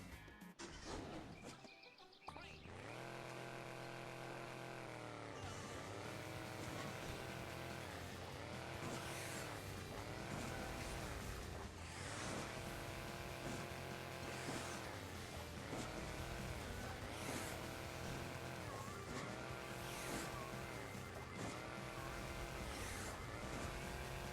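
Buggy engine in Hill Climb Racing 2, fully upgraded, droning steadily and loud with repeated rising and falling revs as gears shift and the vehicle climbs, continuous for about twenty seconds after a brief quiet start.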